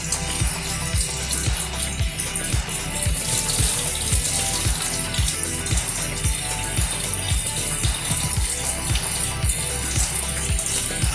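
Water runs steadily from a tap over sago being washed, a continuous rushing stream with faint rhythmic clicks and rattling underneath and no voices.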